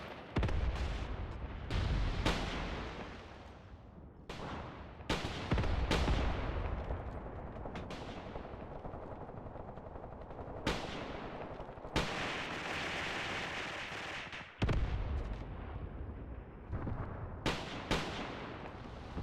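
Artillery shelling in the war game Graviteam Tactics: Mius Front, with repeated heavy blasts and gunfire bursts at irregular intervals, some close and sharp, others duller, over a rumbling battlefield backdrop without speech.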